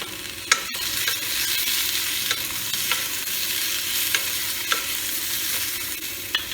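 Green chillies fry in hot oil in a pan while a utensil stirs them, a constant close sizzle broken by sharp scraping clicks and knocks at irregular intervals, loud and without voices.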